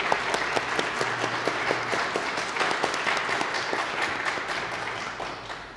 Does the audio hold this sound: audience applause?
yes